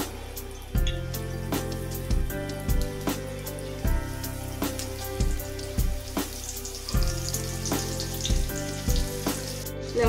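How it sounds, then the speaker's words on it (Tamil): Eggs frying in a couple of spoons of hot oil on a dosa tawa, a crackling sizzle broken by repeated scraping and flipping strokes, close up and with no talking. "இந்த மாதிரி தோசைக்கல்ல முட்டையை போட்டுக்கணும். முட்டை எதிர்த்து ஃப்ரை பண்ணணும்."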